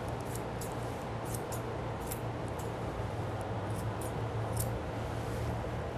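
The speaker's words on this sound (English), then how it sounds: "a good pair of curved shears that'll help you to make the structure of the top knot" Curved grooming shears snip through a toy poodle's long fur as the topknot is shaped, a series of quick, crisp metallic cuts repeating at an irregular rhythm, close and fairly soft over a steady low background hum.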